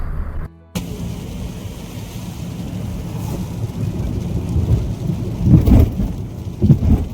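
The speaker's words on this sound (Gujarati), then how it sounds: "શિયાળામાં આવો વરસાદ ભાગશાળીને હોય જોવા મળે સાહેબ" Heavy winter rain pours down with loud rumbling thunder, a dense steady downpour that swells with deeper thunder rolls toward the end.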